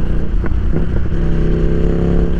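A Ducati Diavel 1260 motorcycle engine revs loudly and close, a continuous deep rumbling roar with a few sharper throttle blips, heard alone on a solo ride.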